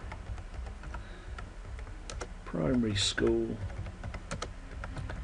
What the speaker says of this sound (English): You just highlight it and start typing.